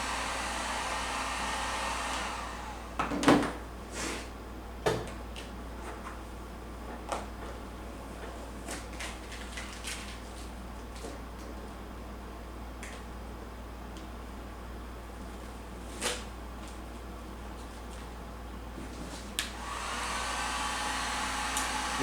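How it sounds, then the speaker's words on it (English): A heat gun blows steadily, warming vinyl car wrap as it is peeled off a car's paint, a continuous airy hiss throughout with a few faint clicks and knocks, no one talking. "When it starts doing that, I usually just go ahead, start heating it again."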